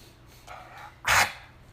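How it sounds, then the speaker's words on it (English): A big dog gives a single short, loud bark close by, with a faint huff or breath just before it. "I got a big butt-headed dog beside me"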